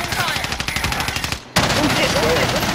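Rapid automatic gunfire in a Call of Duty: Modern Warfare match, a loud stuttering burst of shots that cuts out briefly and then resumes as dense, continuous firing and battle noise.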